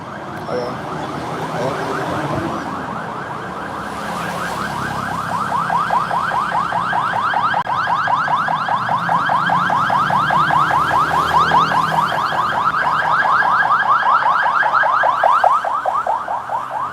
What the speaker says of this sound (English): That's all I need is more noise. Freaking ambulance.